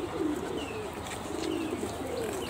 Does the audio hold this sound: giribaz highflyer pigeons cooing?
yes